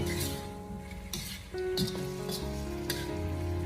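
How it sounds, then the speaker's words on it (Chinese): Chicken legs stir-fried over low heat with ginger, scallion and star anise, giving a steady close sizzle with occasional clinks and scrapes of a spatula against the wok. "然后再继续的开小火给它慢慢的翻炒均匀，把姜葱和大料给它翻炒出香味"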